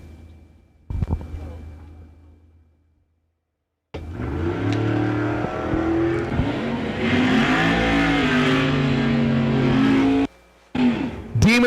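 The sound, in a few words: Dodge Demon and truck drag racing launch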